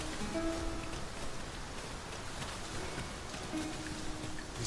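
Steady rain hisses down in the Dragon's Dogma 2 game, a continuous broadband wash of drops on surfaces with faint tonal cues drifting over it.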